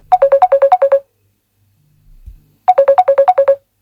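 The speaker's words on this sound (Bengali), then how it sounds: "এমন সময় দেখি ওই নম্বর থেকেই ফোন আসছে হঠাৎ করে আমায়" A mobile phone ringtone for an incoming call, two bursts of rapid, loud, repeated chirping tones separated by a short pause.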